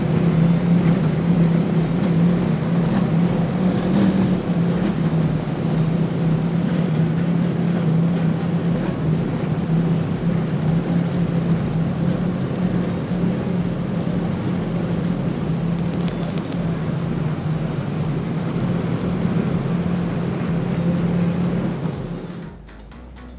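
Mercury Racing 1100 outboard motors power a racing powerboat on the water during a poker run, producing a steady, fairly loud low engine drone that holds for about twenty seconds before dropping away abruptly at the end.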